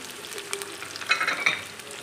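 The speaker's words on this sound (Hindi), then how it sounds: "तेल में अब हम थोड़ी सी प्याज और ये जो हमने काजू बादाम ये सब रखे थे वो हम इसमें ऐड कर रहे हैं" Onion, cashews, almonds and garlic sizzle in oil in a kadhai, a quiet close frying hiss with a few brief crackling bursts.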